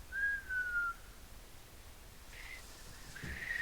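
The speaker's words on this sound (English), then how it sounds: "like, this is my whistle, y'all" A person whistles a short clear tone, steady then sliding down, followed by a fainter, higher whistle attempt at the end in a quiet room.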